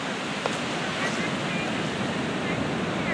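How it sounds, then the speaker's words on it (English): Waves rolling in at St. Augustine Beach beside the pier, with light wind, form a steady close surf wash. It runs without a break and no one speaks. "Beach. It's a beautiful day. Very light wind."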